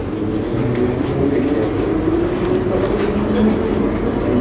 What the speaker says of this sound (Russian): Будьте осторожны, поезд отправляется.